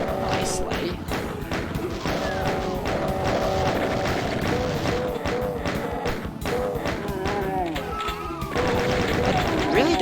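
Chaingunner enemies firing in Doom 2, dense rapid rattling gunfire bursts mixed with crashes and thuds in a loud, continuous battle, with brief talk over it.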